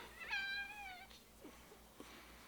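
A house cat gives one clear, drawn-out meow near the start, fairly quiet and close, followed by a few faint small clicks and rustles in a calm room.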